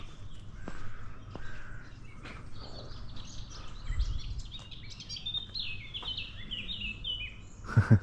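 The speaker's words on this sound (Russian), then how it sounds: "Птички поют." Birds singing outdoors in Rome on a sunny day, with bright chirps and twittering and an occasional caw over a low steady background hum.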